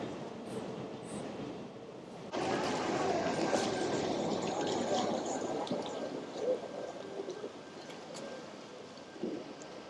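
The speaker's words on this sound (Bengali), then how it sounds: "উপর দিয়ে ট্রেন যাচ্ছে" At night in Japan a train crosses a bridge overhead above a river, its rumble swelling abruptly after a quieter opening and holding as a loud, continuous roll with faint rattles.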